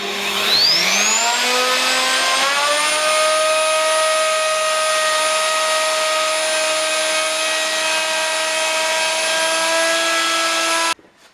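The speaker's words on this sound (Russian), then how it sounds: "Мы ставим наш фрезер на наш донный щит и начинаем фрезеровку и снятие фаски." A wood router spins up and runs steadily while chamfering the edge of an oak barrel bottom panel, a loud continuous high whine with a rising start, cutting off abruptly near the end.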